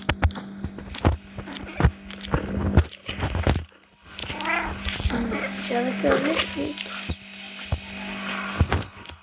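Meows from a cat character in a video game, heard as a run of short tonal calls in the middle of the clip, mixed with game effects, a steady low hum, and occasional thumps.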